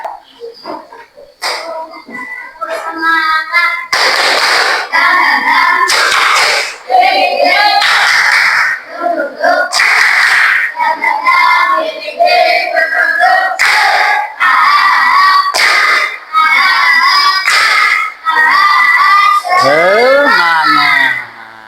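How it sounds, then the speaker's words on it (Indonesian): Children in an Indonesian classroom perform a spirit clap chant after group work: loud, energetic group shouting and chanting punctuated by rhythmic bursts of clapping, sustained nearly the whole time with brief pauses between phrases. "Silahkan sekarang kita tepuk semangat dulu, ya."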